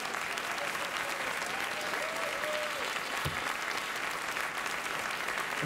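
Studio audience applause at a late-night talk show fills the whole stretch as a steady, dense wash of clapping at constant level, with no break or fade.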